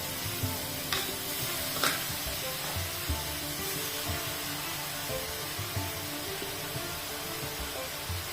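A steady sizzle of grated carrots frying in a wok, with occasional soft scrapes of a spatula stirring, no voices.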